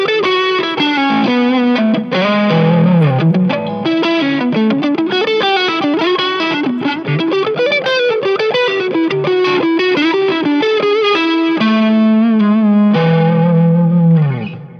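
A Harley Benton TE-62 electric guitar runs through a Zendrive overdrive pedal, giving a continuous, loud, warm driven lead line with sustained bent notes and a final held chord, no voices.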